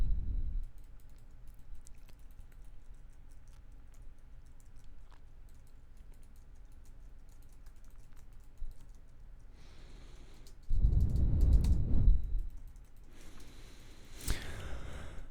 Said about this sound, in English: I'm going to go ahead and do the clicky and typey test, and I actually have a much quieter keyboard this time.